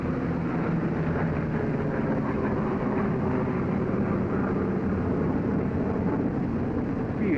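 A 1943 P-47 fighter plane roars steadily through its takeoff, a loud, unbroken rumbling drone of the piston engine that holds constant throughout.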